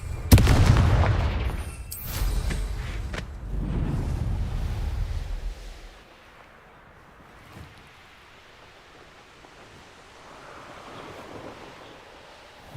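In Hogwarts Legacy, the Confringo blasting curse lands as a loud explosive boom with a rumbling roar that lasts several seconds. A long, soft, airy wash of ambience follows it, with no speech.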